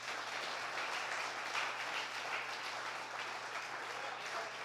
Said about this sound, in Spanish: Si le va a dar ese aplauso a Dios, déselo más fuerte.